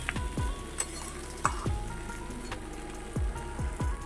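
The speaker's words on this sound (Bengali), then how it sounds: "আর এদিকে ভাজাও আমার প্রায় হয়ে গেছে" Mixed vegetables with lentils, turmeric and salt fry in a pan, a steady close sizzle punctuated by repeated sharp scraping clacks of a spatula stirring, no voices.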